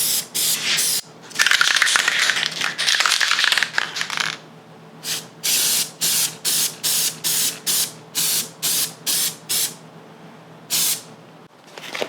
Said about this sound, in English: Spray a little spray.